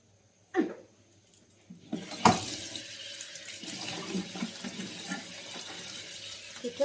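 Food rinsed under a running kitchen tap, a steady close splashing stream that starts after a brief clunk and keeps flowing with small bumps and shifts as the food is handled.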